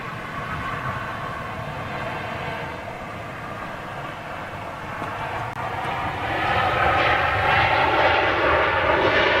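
Jambo Jet airliner flying past, a broad roaring jet-engine rumble that swells louder and closer toward the end, with no talk over it.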